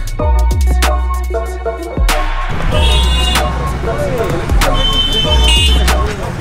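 Busy city traffic in Hyderabad, with car engines, road noise and short repeated horn toots cutting through a dense, loud mix close by, and voices chattering underneath.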